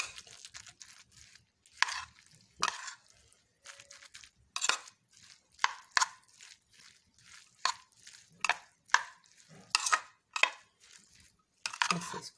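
Cooked rice for rice koftas being mashed by hand, soft close squishing presses coming in irregular bursts with quiet gaps between them.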